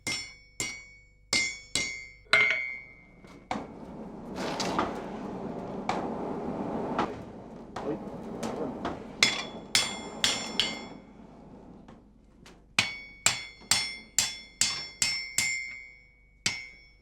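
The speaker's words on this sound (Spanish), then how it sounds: "A base de golpes con el martillo sobre el hierro rusiente, consigue darle la curvatura deseada." A hammer strikes red-hot iron at a forge in sharp, ringing blows, first in scattered hits, then a rumbling pause, then a fast regular series of clanging strikes.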